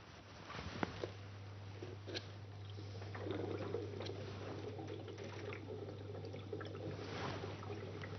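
Gas bubbling through a delivery tube into a water-filled cylinder in a laboratory, a soft continuous gurgle and patter of small bubbles over a steady low hum.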